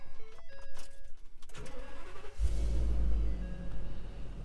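A 2015 Ford F550 V10 truck engine cranks and catches after some brief clicks and key sounds, then settles into a loud, close, steady low rumble with no talking.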